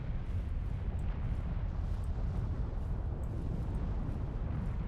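A volcano erupts in a steady, unbroken roar, a dense rumbling wash of noise that stays loud and constant throughout with no voices.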